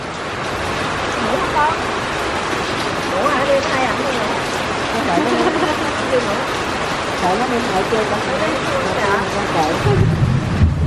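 Steady rain pours at night around a hut in the Vietnamese countryside, a dense continuous hiss that lasts throughout while people talk over it.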